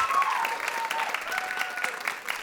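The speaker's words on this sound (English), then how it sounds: "Let's give them a round of applause too." Audience applause for the TeenSpeak coaches, steady scattered clapping from a crowd at an evening event, moderately loud and sustained throughout.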